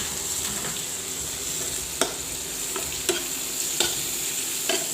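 Tomatoes and coriander leaves stirred in a frying pan with a steady sizzle, a spatula scraping and tapping the pan in a few sharp knocks spaced about a second apart, close and clear.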